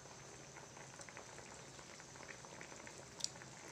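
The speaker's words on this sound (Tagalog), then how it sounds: "You can boil this for 5 minutes" Fish curry with eggplant and okra simmering in a pot, a faint steady bubbling with soft pops and an occasional sharper plip.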